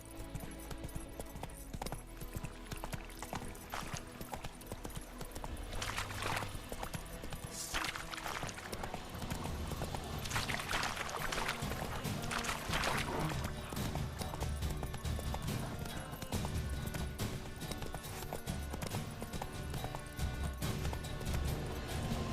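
Hooves of Geralt's horse Roach gallop steadily in The Witcher 3, a dense continuous clatter under game music and ambience, with no talk over it.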